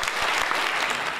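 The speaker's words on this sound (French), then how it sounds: "Je vous demande également de bien vouloir applaudir le docteur Philippe" A short burst of full, steady audience applause at a tribute gathering, a dense wash of many hands clapping close by with no voices.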